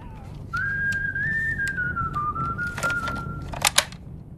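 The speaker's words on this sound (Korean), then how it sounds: "이 멋들어진 휘파람은 음악 감독팀의 스텝이 불었다고 합니다" A clear, sustained whistled melody, performed by a music team staff member for the film The Good, the Bad, the Weird, holds long gliding notes over a low background, with sharp clicking sounds near the end.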